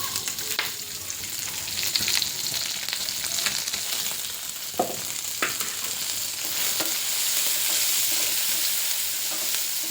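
Green chillies fry in a pan with a steady crackling sizzle, and occasional clicks and scrapes of stirring break through near and clear.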